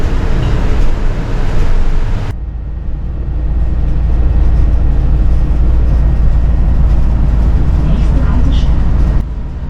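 A city bus in Jena, Germany, heard from aboard as a steady, loud low engine and road rumble that continues without a break, the sound shifting abruptly once partway through.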